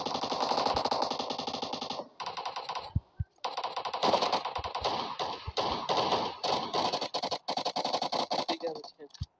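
Rapid bursts of machine gun fire in the video game PUBG, with repeated sharp rattling volleys and thuds across the whole stretch, while players talk over the shooting.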